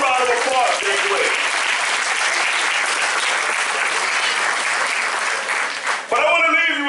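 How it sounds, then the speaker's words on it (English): Graduation audience breaks into loud, dense applause that holds steady for several seconds, with a speaker's voice at the start and returning as the clapping cuts off near the end. "Give them a round of applause."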